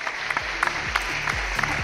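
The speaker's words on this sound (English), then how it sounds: "Huge round of applause for these ladies," Audience applause at a stage conversation event, a steady wash of many hands clapping with no voices on top, sustained for a couple of seconds.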